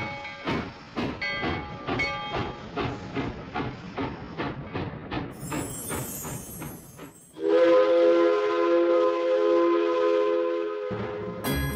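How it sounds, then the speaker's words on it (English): A train rolls past with rhythmic clattering wheels over rail joints, then a long loud steady whistle or horn blast takes over, fairly close and with no talking. "Train."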